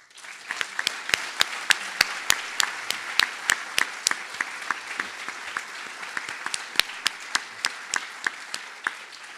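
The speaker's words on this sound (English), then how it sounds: "give a last round of applause to tonight's changemakers" Audience applause at an awards event held at a YMCA, a steady wash of many hands clapping with sharp individual claps standing out, sustained and moderately near throughout.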